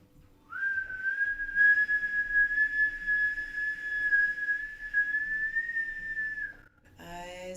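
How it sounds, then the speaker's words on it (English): A long, steady whistle blown on an exhale through the mouth during a Kundalini yoga breathing exercise: one continuous mid-pitched tone lasting about six seconds, close and clear, ending with a faint breathy sound. "whistle on the out breath through the mouth"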